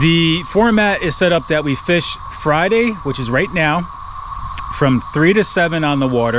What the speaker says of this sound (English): that noise you hear in the background is the cicadas